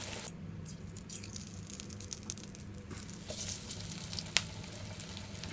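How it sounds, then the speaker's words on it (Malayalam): Ginger pathiri, a Malabar snack, frying in oil over a medium flame, giving a faint, steady sizzle with occasional soft bubbling pops. "മീഡിയം ഫ്ലെയിമിൽ വെച്ച് ഫ്രൈ ചെയ്താൽ മതി"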